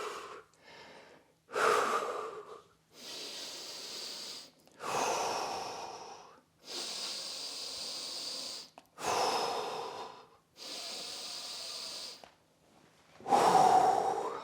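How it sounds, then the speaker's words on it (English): Heavy breathing during a hip mobility and strength workout, a series of long, forceful inhales and exhales in bursts of one to two seconds, close and loud with short pauses between, no talking. "Keep breathing in between as well"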